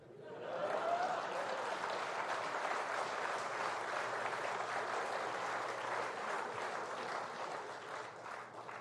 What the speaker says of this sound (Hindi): लेकिन जब मैं कहूं तब ताली बजती है।